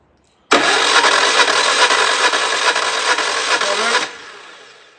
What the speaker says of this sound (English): When we do a compression test, we've got to open the carburetor fully open so you get some maximum of air into it